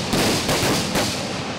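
Blasts from new recruits' military training explosions come as a few sharp bangs in quick succession, loud and close, with a noisy rumbling tail and no talk.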